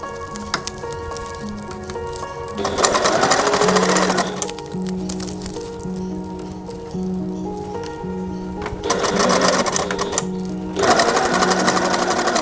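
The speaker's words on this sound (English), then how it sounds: "it's actually on my machine, it's got a 1, so I use that as a stitch length, and we're just going around in the circle" Sewing machine running a circular seam at stitch length 1 on a DIY upcycled peg bucket, a close steady motor whir with rapid stitching that pauses and restarts in several bursts.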